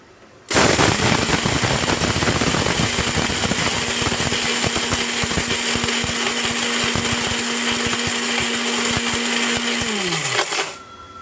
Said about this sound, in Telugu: మిక్సీ గిన్నెలోకి వేసేసుకొని మిక్స్ అయితే పెట్ట పట్టేసుకోవాలి మంచిగా పౌడర్ లాగా మెత్తగా